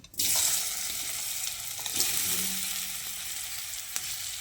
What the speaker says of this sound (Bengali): এবার আমি মেখে রাখা আলু আর কচুটা দিয়ে দিচ্ছি।